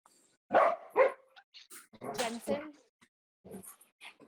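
A dog barks twice in quick succession, close and fairly loud, during an online city council roll call, with voices talking before and after.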